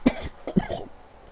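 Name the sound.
commentator coughing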